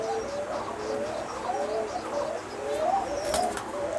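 Giribaj pigeon chicks and adult pigeons coo steadily in a loft, with repeated soft rolling calls over a constant busy background of birds close by.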